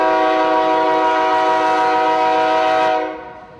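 A CSX Q121 all double-stack container train from Chicago arrives in Jacksonville, its horn sounding loud and steady with a rich harmonic chord for about three seconds before cutting off sharply, rail noise rumbling underneath.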